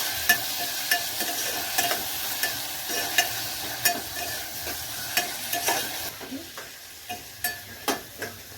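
Field bean seed curry being stirred in a hot pan: a soft continuous sizzle broken by regular spoon scrapes and knocks, roughly one every second, close and fairly loud.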